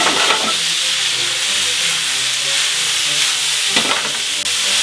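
Onions sizzle loudly in a hot pan for a cheese steak burger, a steady bright frying hiss with scraping turns of a utensil near the start and again toward the end; no one speaks.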